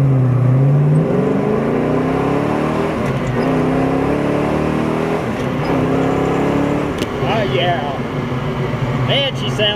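A 1968 Pontiac GTO with a four-speed manual runs and revs loudly throughout, its engine note climbing and falling through several pulls while someone talks over it.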